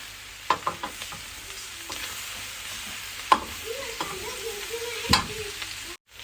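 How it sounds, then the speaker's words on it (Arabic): Food sautéing in a pan, a low steady sizzle with scattered taps and scrapes of a spoon stirring, fairly close and fading out at the end. "بصوا تشويحه بقى ايه"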